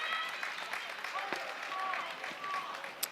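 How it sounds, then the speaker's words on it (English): Home crowd of Beaver Dam fans at a girls' varsity high school playoff basketball game, a distant, faint steady roar of cheering and clapping with a few squeaks and thumps from the court. "And the Beaver Dam faithful making a lot of noise to our right."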